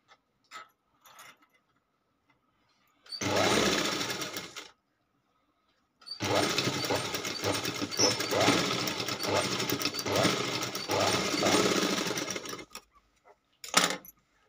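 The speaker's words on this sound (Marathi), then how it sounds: "याच्या आतल्या साईडलाच असं दाबून शिलाई चालू" A sewing machine stitches a blouse seam in two runs, a short burst and then a longer steady whir of needle strokes, close and clear against an otherwise quiet room.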